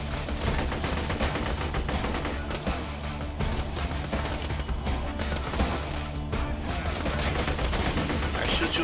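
Loud, sustained automatic AK-47 fire rattles continuously through a video game firefight, dense and close, with speech mixed in beneath the shots.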